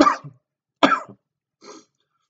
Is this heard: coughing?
yes